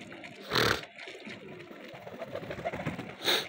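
Pigeons being fed grain give soft, low coos near at hand, broken by two short, loud, broad bursts like flapping wings, one early and one at the end.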